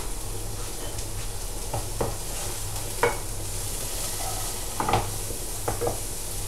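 Onions sizzle steadily in a hot pan for tomato sauce, a constant crackling hiss broken by a few scraping stirs of a utensil against the pan.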